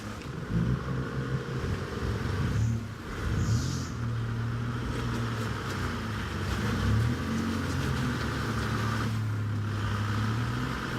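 A stock AT-series Toyota 4WD drives through deep water at an off-road event, its engine droning steadily and loudly throughout with a churning, sloshing wash around it.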